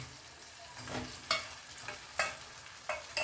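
Roasted peanut mixture frying in hot oil for a Vidarbha-style amti with fresh pigeon peas, with a steady soft sizzle broken by sharp, close scraping strokes of a spoon stirring it every second or so.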